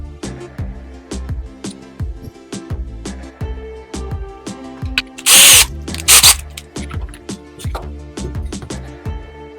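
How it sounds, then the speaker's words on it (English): A hand drill boring an entrance hole in a wooden birdhouse runs in short, repeated bursts, with ratcheting clicks and knocks between them and two sharp, loud bursts near the middle; no one speaks. "We gotta drill the hole in the front for the birds to get in. We'll use the hand drill"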